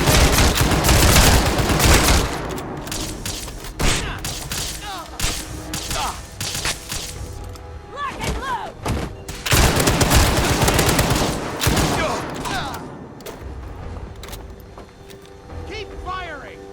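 Gunners trade heavy gunfire in Fallout 4, with dense volleys and scattered single shots in bursts that rise and fall, while voices shout over the fighting.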